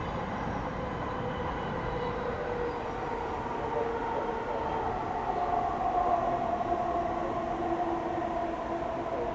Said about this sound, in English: How old is the air train?